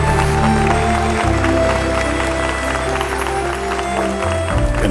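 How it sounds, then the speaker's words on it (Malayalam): A crowd claps in sustained applause over loud background music with a deep, shifting bass line. "കൈയ്യടി"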